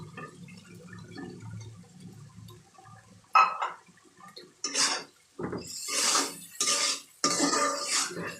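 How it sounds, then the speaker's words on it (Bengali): Cut potato pieces go into a pot for a hilsa fish and potato curry and are stirred, giving quiet scraping followed by several loud clattering, sloshing bursts of utensil against metal. "দিয়ে দেবো পিস করে রাখা আলু"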